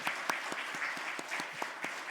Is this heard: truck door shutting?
no